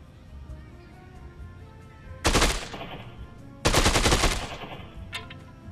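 Two loud bursts of rapid video-game gunfire during aiming practice, each a dense rattling volley of about a second, with a brief faint shot near the end and a quiet gap before the first burst.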